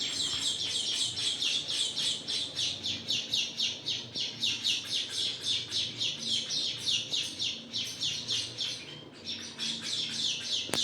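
Sparrow chicks in a nest at a home chirp rapidly, repeated high cheeping bursts in a fast, steady rhythm, close and fairly loud, with a brief pause near the end.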